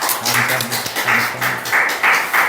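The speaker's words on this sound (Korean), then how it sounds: "하나님 앞에 감사의 박수 올려드리겠습니다" A church congregation applauds during a Sunday service, with a dense steady clapping that rises and falls in short waves, filling the room with no talk over it.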